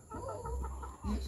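A native chicken clucks close by in a few short, low calls at a rural home, with no talking over it.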